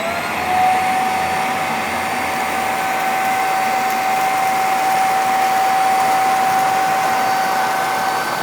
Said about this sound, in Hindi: देखते हैं क्या ये हमारा जो वैक्यूम क्लीनर है वो क्लीन कर पाता है